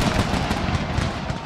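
Dense gunfire from an American Civil War video game battle, with dragoons and cavalry units engaging; a continuous loud rattle of overlapping shots fills the whole stretch without pause.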